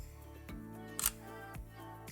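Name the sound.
Sony A6400 camera shutter firing continuously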